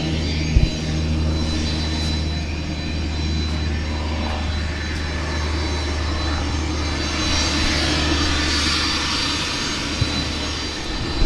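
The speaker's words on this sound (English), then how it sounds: "the flight by Michael Llompart, who has just recently completed his first solo in a Cessna 172 airplane." A Cessna 172 single-engine airplane engine drones steadily and loudly close by at the end of a first solo flight, a continuous low rumble with no talk over it.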